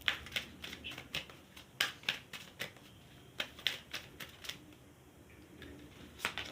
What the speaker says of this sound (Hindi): शफलिंग को देखो, आपके लिए ही मैं यहाँ पर कार्ड्स निकाल रही हूँ ना